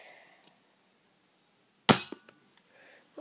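A Nerf toy gun fires once with a sharp, close pop, followed by a few small clicks and rattles of the mechanism in an otherwise quiet setting.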